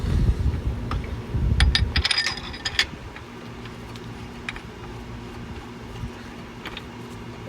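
A few sharp metallic taps seat a bearing part into place on a Detroit 6V92 diesel engine in a garage, clustered close together, then fading to a low steady background hum.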